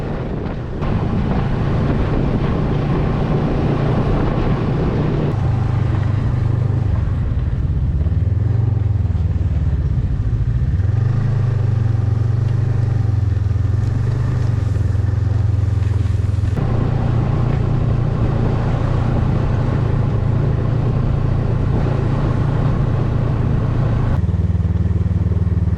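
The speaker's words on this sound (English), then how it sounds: "The first was a nighttime snowmobile trip into the wilderness." A snowmobile ride at night through the Lapland wilderness near Muotka in Finland, with a steady, loud engine drone and shifting pitch as the machine travels, buffeted by heavy wind rush on the microphone throughout.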